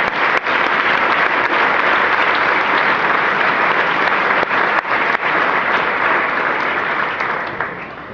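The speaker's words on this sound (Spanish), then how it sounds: "Denle un aplauso bien fuerte al Señor." A church congregation claps loudly and continuously, a dense, steady roar of applause that dips only slightly before easing off at the end.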